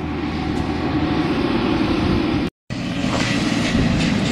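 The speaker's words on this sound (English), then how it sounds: "We have a westbound manifest train and it's going through Shelton" A westbound manifest freight train, led by a locomotive running long hood forward, rolls through Shelton: a loud continuous rumble and rush of wagons with faint wheel clatter, broken by one brief dropout near the middle.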